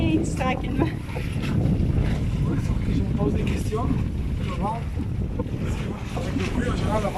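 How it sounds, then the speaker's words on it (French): Strong wind buffets the microphone with a constant roar over open water, while voices talk intermittently beneath the gusts. "Le bruit, en général, le vent se lève."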